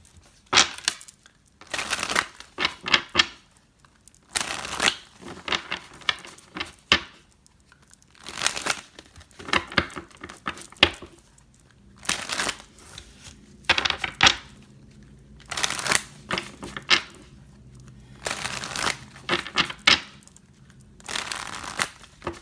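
Oracle cards being shuffled and handled during a tarot reading, with repeated bursts of crisp riffling and papery flicks separated by brief pauses, close and moderately loud with no talking.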